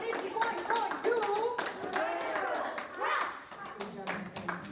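Students in a classroom game session clap for a classmate, a loose patter of hand claps mixed with children's chatter and voices throughout.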